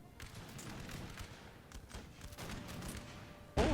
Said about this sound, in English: The rockets! But... from where?